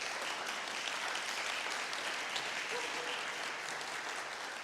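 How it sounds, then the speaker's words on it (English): A church congregation at Unity of Nashville breaks into sustained applause, an even, fairly soft wash of many hands clapping that holds steady and tapers slightly at the end. "Yes, you can applaud if you want to."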